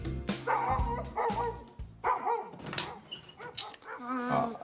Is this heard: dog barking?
yes